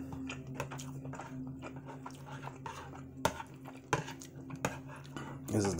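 A serving spoon scoops turkey pasta from a pan, giving a run of close metallic scrapes and clinks with a few sharper knocks, spread irregularly throughout.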